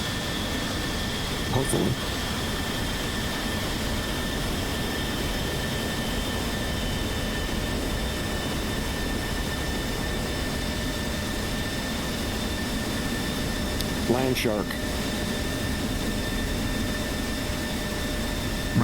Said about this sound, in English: there goes the other B-52